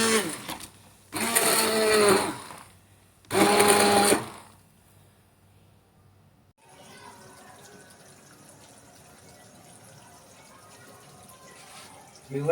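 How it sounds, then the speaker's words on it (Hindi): A kitchen blender grinds spinach in its jar, two loud whirring bursts of about a second each with short pauses between, then quieter clattering kitchen sounds. "हम पालक को ग्राइंड कर रहे हैं"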